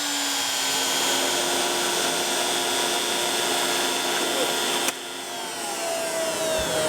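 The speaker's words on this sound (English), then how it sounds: "And now I need to counterbore the other side." CNC router cutting a counterbore into the second side of a workpiece, a steady, loud whine with a fixed tone that dips abruptly near five seconds, then resumes at a slightly shifted pitch.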